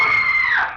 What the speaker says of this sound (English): It was at that precise moment that I heard the scream